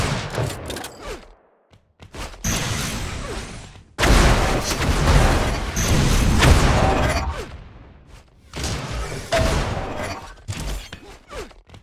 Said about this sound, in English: Very, very close rocket.